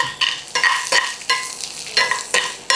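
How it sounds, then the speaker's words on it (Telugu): Green chillies and garlic frying in a pan, with a steady close sizzle broken by repeated stirring scrapes in an uneven rhythm, no voices. "సిమ్లో ఉంది కింద పచ్చిమిరపకాయలని కొంచెం వేగనివ్వండి"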